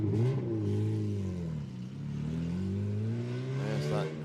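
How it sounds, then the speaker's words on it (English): A race car in a Malaysia Championship Series 300km endurance round gives a gruff, sustained engine drone with rising and falling revs, loud and steady throughout without speech. "There's that gruff engine noise."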